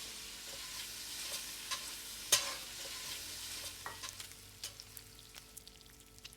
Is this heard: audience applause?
no